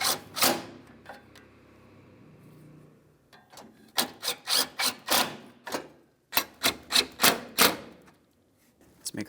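A ratchet tightens the headlight mounting bolts on a 2002-2006 Honda CR-V, first a scraping rasp, then repeated quick bursts of clicking strokes, loud and close with no talk.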